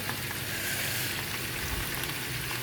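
Boal fish frying in hot oil, giving a dense, constant crackle and sizzle at moderate level with no pauses.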